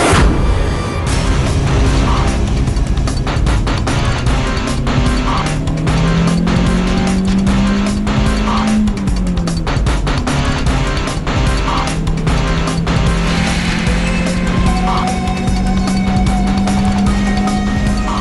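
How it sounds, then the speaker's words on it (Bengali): A vintage car driving, its engine note rising and holding steady with shifting tones, loud and close, punctuated by rattling and road noise throughout. "এটা ভিন্টেজ কার, একটু স্লোই চলে"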